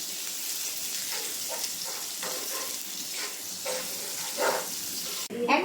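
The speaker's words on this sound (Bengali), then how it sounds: "মগজ রান্না করব এই জন্য পেঁয়াজ ভেজে নিচ্ছি" Onions fry in hot oil in a home kitchen pan, giving a faint, steady sizzle with soft stirring scrapes now and then, and a brief clatter near the end.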